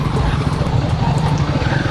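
A Royal Enfield Himalayan 450 motorcycle pulls hard under acceleration, a loud, steady engine drone with a strong low rumble that carries without a break through the whole short ride.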